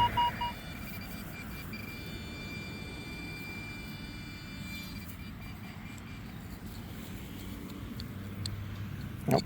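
A metal detector sounds its tone on a buried target beside a river at a regatta site, a thin steady pitched ringing held for several seconds under quiet outdoor background.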